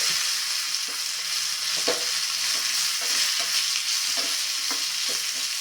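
A spoon mixes guava relish (peru kayras) as roasted sesame seeds go in, giving steady light frying sizzle with a string of soft scraping stir strokes throughout, close and moderately loud with no talking.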